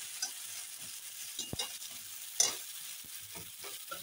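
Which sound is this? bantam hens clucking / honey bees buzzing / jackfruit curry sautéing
jackfruit curry sautéing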